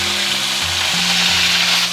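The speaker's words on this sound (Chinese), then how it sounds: "接着我们把毛蟹放下去，保持中大火煎" Mitten crabs sear cut-side down in plenty of oil in a hot iron wok over medium-high heat, giving a loud, dense, unbroken sizzle with a low hum beneath.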